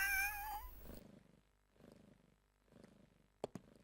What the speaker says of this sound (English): She's a nice cat.